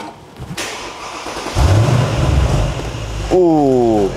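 A modified sports car with an aftermarket exhaust cranks and catches, settling into a deep rumble, then revs sharply upward in a loud rising roar near the listener.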